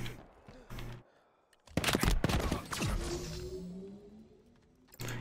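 Bursts of gunfire in the shooter game Halo Infinite, a rapid volley early on, then a loud cluster of shots with ringing decay and a final burst near the end, no talking.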